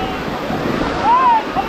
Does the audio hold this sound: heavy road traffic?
no